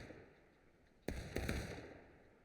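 A musket volley from a War of Rights drill bursts out as a sudden sharp crackle of several shots, followed by a second ragged cluster, distant-sounding over a low steady hum.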